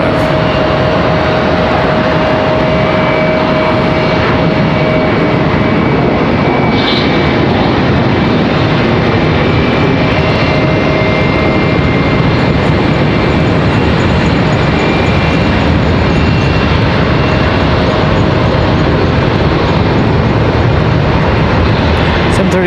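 An Embraer ERJ 145 regional jet at Charlotte Douglas International Airport produces a loud, steady broadband engine roar that holds for the whole stretch with no pauses, heard close and continuous.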